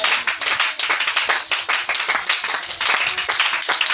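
A church congregation claps and applauds together in dense, continuous bursts, loud and close, filling the whole stretch without pause.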